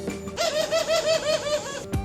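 Pigeons coo in Venice, a loud, close, rolling call that repeats in a steady pulsing rhythm for about a second and a half, with no speech.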